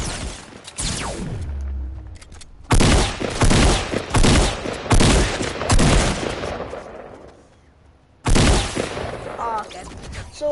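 Burst weapon firing in Fortnite, several loud, close bursts of rapid shots separated by short pauses, with a voice talking at times.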